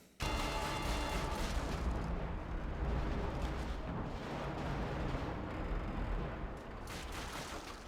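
Dense gunfire in the World War II shooter game Call of Duty Finest Hour: loud, continuous overlapping rifle and machine-gun bursts with booming blasts, easing slightly toward the end, no voices.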